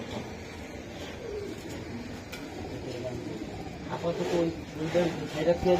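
Racing Giribaz pigeons coo softly in low, rolling calls close by, growing more prominent toward the end, with a voice speaking over them.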